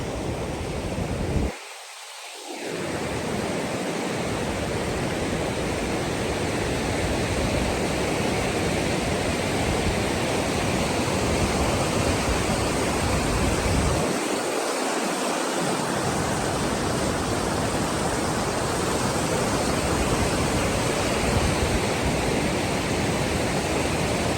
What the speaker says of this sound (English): here's the waterfall from the top